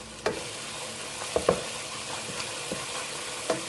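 Masala with fenugreek and nigella seeds sizzles steadily in a pan for karhi pakora, broken by several distinct knocks and scrapes of a spoon stirring.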